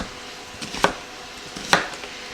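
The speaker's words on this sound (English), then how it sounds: "So I'm just going to cut some slices here and then cut those slices into pieces" A knife cutting slices from a whole yellow onion on a cutting board, two sharp, close chops about a second apart over a quiet kitchen background.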